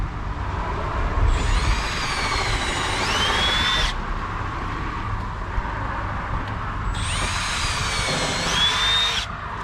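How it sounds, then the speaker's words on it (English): Two loud, high-pitched drill bursts, each a few seconds long, separated by a pause, close up over a steady background rumble, pre-drilling white trim for nails while installing a replacement window. "Corinne, go ahead and pre-drill."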